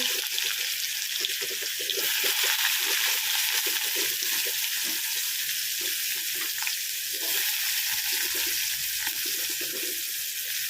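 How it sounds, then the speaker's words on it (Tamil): Mustard seeds and onions fry in hot oil for a Tamil okra kara kuzhambu, giving a steady, close sizzling hiss that never lets up, with faint crackles and no voices. "கடுகு பொரிஞ்சு வந்ததும் வெங்காயம் சேர்த்துக்கலாம்"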